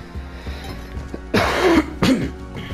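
A person coughs and clears their throat, several short rough bursts close to the microphone, the last two louder and harsher, with quieter background game sounds between them.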